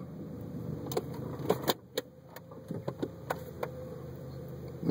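A 2002 VW Jetta sitting in drive, a low steady engine hum underneath a series of sharp clicks and light knocks scattered irregularly through the cabin.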